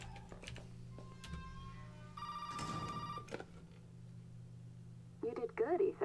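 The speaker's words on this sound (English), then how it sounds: "Oh, the phone's in here." A telephone rings inside a house in the Resident Evil 7 video game, a repeated bell-like tone over a low ambient hum, with a brief louder burst midway and a voice speaking near the end.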